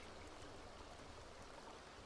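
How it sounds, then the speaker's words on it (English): Rain falling in The Sims 2, a soft, constant hiss like a steady shower or trickling stream, very faint and unbroken over a couple of seconds. "It's raining."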